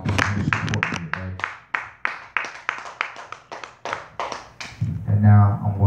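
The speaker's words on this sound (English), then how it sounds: "So I just want to give another round of applause for God and y'all for your support today." A few people clapping at a memorial celebration, sparse and irregular slaps, some single and close, with a voice speaking at the start and end.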